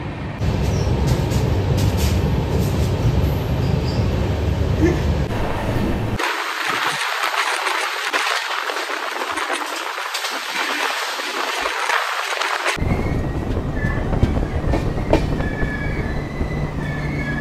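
The Tourist Express Vistadome train from NJP to Alipurduar rumbles steadily along the tracks, loud and close, its wheels clattering and squealing with a constant roar throughout.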